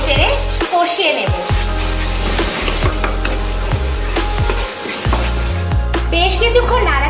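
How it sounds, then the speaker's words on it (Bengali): A spice masala of turmeric, coriander and cumin is stir-fried for Bengali taro root paste, its soft sizzle and stirring scrapes running under a prominent voice. "সব দিয়ে মশলাটাকে আবারও ভালোভাবে নেড়ে চেড়ে কষিয়ে নেব।"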